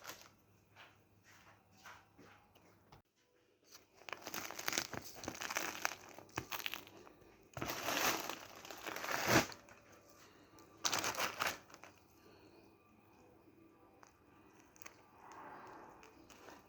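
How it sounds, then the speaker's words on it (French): A knife cuts through freshly baked, spongy Algerian bread, giving crisp, crinkly crackling in bursts with short quiet gaps, close and fairly faint. "Je vais vous couper tout ça."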